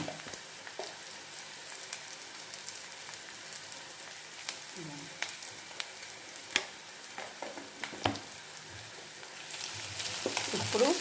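Ginger and shallot paste fries in a pan for drumstick khurma, giving a quiet, steady sizzle with occasional light taps of a spoon. The sizzle swells louder toward the end.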